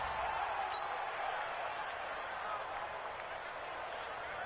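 A crowd roars at a football game in a PS4 video game, a broad, steady wash of cheering held at a moderate distance from start to finish, with no gaps.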